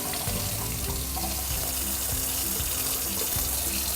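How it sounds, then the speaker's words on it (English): Lukewarm water runs from a tap into a sink in a steady, loud, continuous rush with splashing, and nobody is speaking. "First, get the water running. You want lukewarm."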